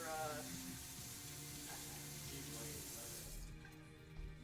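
A measuring cup is rinsed under a running kitchen sink tap, a steady close hiss of flowing water filling nearly the whole moment before it cuts off near the end.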